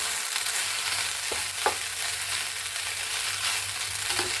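Lemon rice being stirred and mixed in a pan, with a steady low sizzle and a few soft scraping clinks of a spoon against the pan, close and with no voices.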